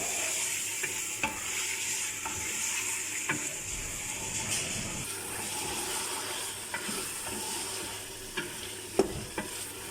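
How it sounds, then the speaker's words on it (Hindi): Mutton pieces fry with onion and ginger in a pot for degi aloo gosht, giving a steady close sizzle broken by regular scraping and knocking as the meat is stirred. "ये गोश्त अब हमने इसके अंदर पहले भूनना है सही से।"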